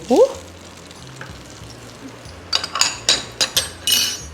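Dried red chillies and urad dal fry in hot oil for a tomato pachadi tempering: a low steady hum at first, then a soft sizzle broken by several sharp clinks of stirring in the second half.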